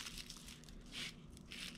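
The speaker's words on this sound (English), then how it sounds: "I'm gonna crumple" Paper is crumpled by hand while making a paper trash truck craft, giving faint, close, bursty crinkling in a few short clusters with no talk.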